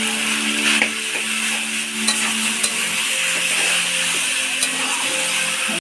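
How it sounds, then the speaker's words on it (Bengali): Chow mein stir-fried with scrambled egg in a wok gives a loud, continuous hissing sizzle, with occasional sharp scrapes and taps of the spatula against the pan. "ঝুড়ো করে ভাজা হয়ে গেছে, এতে এবার চাউমিনগুলো দিয়ে দেব।"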